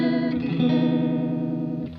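A Swindler Effects Gulf chorus/vibrato pedal with its speed turned up swirls a sustained guitar chord into a fast, Leslie-like warble, steady and loud for about two seconds before fading at the end.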